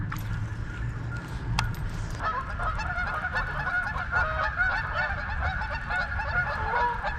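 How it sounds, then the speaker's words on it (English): Geese honking loudly and repeatedly beside a shallow New Jersey fishing spot in spring, a dense chorus of harsh calls over outdoor background noise. "Oh, geese are being obnoxious as usual."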